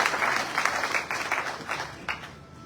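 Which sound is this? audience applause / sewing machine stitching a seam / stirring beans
audience applause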